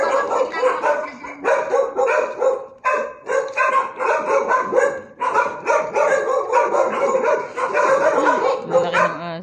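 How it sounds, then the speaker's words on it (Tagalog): A big dog barks repeatedly in a rural provincial setting, loud and close, with quick bursts of barks separated by brief pauses and occasional higher yips. "Lalaki ng aso."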